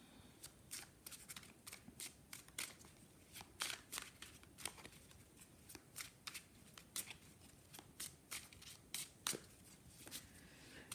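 Tarot cards are shuffled and laid out at close range, a quiet, steady run of crisp snapping and flicking card sounds repeating over a soft background hiss, with no talk.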